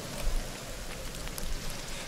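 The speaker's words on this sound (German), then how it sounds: "Und hier regnet es übrigens immer noch rein." Rain falls steadily in the survival video game The Forest, a constant soft patter with no talking and no distinct drops standing out.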